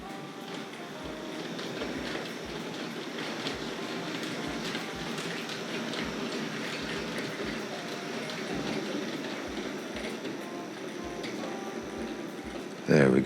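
Tri-ang R.153 saddle tank model locomotive pulling goods wagons out of the sidings and through the points, a steady close rolling whir with regular clicks from the track joints.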